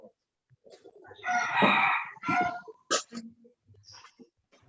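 A domestic rooster crows once, long and loud and fairly close, with scattered softer clucks and brief calls before and after, in an otherwise quiet home setting.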